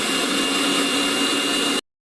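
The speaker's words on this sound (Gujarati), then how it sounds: "તમે મિક્સર અથવા બ્લેન્ડરમાં ક્રશ કરી શકો છો" A kitchen mixer grinder crushes pani puri water, a steady, loud motor whir and churn that runs unbroken before cutting off abruptly into silence.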